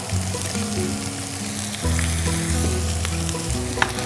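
Chopped garlic, carrot and cabbage fry in ghee with a steady sizzle, along with the occasional stir and scrape of a utensil in the pan, close and continuous, with no talking.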